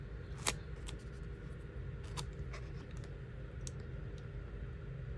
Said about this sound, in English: I do a lot of cutting to some of my stickers